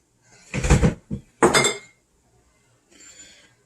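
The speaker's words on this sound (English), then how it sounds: "I'm going to grab a couple of jars." Glass canning jars are picked up for canning crushed tomatoes, giving a few close clinks and knocks in quick bursts, followed by a faint brief rattle after a pause.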